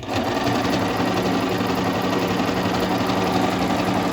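An Elmas 990P sewing machine runs steadily at around 1300 rpm in a small enclosed room, a loud, continuous fast mechanical whir with even stitching pulses from start to finish and no talking.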